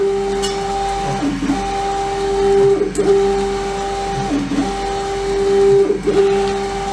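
LogoJET UVx60X UV printer printing on tumblers, a loud steady mechanical drone with a sustained tone and regular carriage passes, swelling and falling every few seconds, close and without talk.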